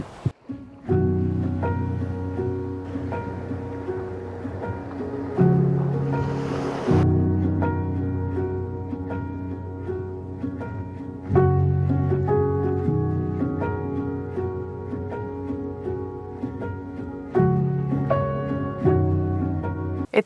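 Sea waves wash steadily onto an empty, clear-water beach in Spain, a continuous surf roar with repeated swells rising and falling over about twenty seconds, with no voices.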